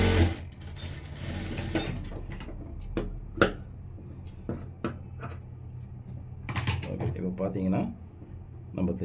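A sewing machine stitches a second seam over an existing one on a blouse in short, uneven bursts, with someone talking throughout and occasional clicks of the fabric being handled.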